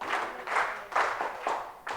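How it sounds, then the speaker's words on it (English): A classroom of students gives a few loud group claps in a steady rhythm, each clap a broad burst from many hands together. "Give them 3 big claps."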